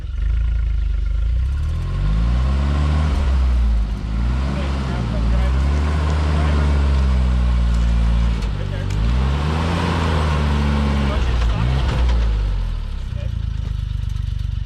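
A Suzuki Jimny engine drones loudly up close while driving, its pitch rising and falling as the throttle is worked, with rattles and clatter over the steady rumble and people talking throughout.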